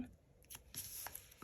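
Scissors snipping through paper while trimming a piece for a planner spread: a few quick, crisp cuts in just over a second, close by, with no voices.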